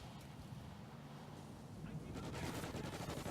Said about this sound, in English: And it looks like OP firing some bullets to that Humvee side.